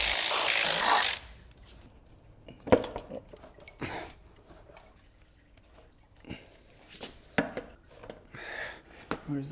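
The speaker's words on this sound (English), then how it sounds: "I'm gonna unbolt the transmission." A power tool rattles loose the transmission bolts on an Alpina B7 with catastrophic engine damage, one long burst at the start followed by scattered metallic clanks and knocks in a quiet workshop.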